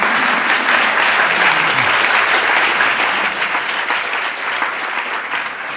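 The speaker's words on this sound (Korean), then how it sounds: "뜨거운 박수 부탁드리겠습니다." Sustained applause from an audience at a Catholic university vision proclamation ceremony in Korea, a dense, steady clapping that fills the hall without pause from start to finish.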